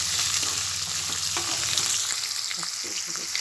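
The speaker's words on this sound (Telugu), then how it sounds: "అన్నీ ఫ్రై అవుతున్నాయి కదా" Green chillies, curry leaves and ginger pieces fry in hot oil for amla rice, a continuous close sizzle with occasional stirring scrapes and clinks of a spoon against the pan.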